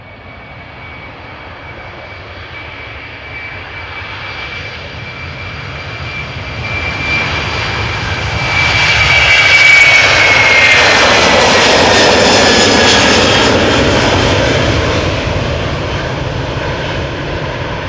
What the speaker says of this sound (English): So this A330-300 on its way to Helsinki, 14 years old.